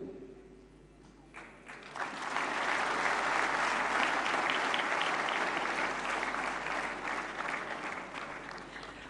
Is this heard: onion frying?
no